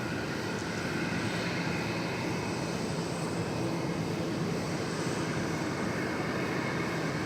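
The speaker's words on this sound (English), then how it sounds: "Okay, we've got a heavy coming in" A heavy jet airliner coming in to land at Dallas Fort Worth gives off a constant, broad engine rumble. The sound holds at an even loudness from start to finish, with no voices.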